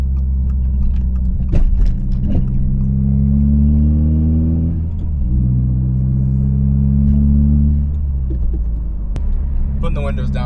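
A modified 2022 Subaru WRX running E85 rumbles steadily from inside the cabin with a deep, grumbling engine drone and a few faint pops, while people talk over it throughout.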